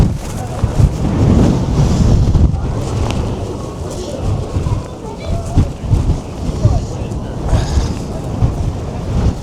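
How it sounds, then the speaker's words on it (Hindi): Strong, gusting wind buffets a slow-moving ship in Antarctica, a loud roaring rush with microphone buffeting that swells and eases, and a voice speaks over it. "बीच बीच में भयंकर तरीके से हवा चल रही है।"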